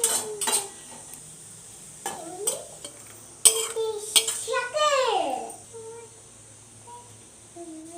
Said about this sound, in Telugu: ఇప్పుడు చింతపండు తీసుకున్నాను కదా, ఇది కూడా ఒక మాట వేయిస్తా